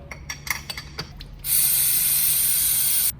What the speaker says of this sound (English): we're going to snug it up with a 17mm wrench